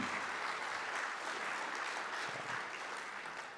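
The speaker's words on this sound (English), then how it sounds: "Can we get a round of applause for Mr. Leonard?" Audience applause at an Indigenous sovereignty gathering with a drum circle, a steady dense wash of clapping that holds throughout and tapers slightly at the end.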